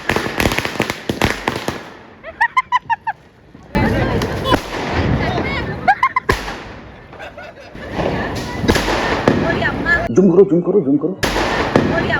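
Firecrackers burst during Diwali celebrations in a rapid crackling string and a series of sharp bangs. Louder thumps and pops follow, mixed with crowd noise and voices talking.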